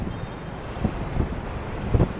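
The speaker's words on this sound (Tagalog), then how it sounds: "Wow, hangin, sarap." Wind blowing across the shore at Manila Bay, a steady low rumble buffeting the microphone with a few stronger gusts, no speech.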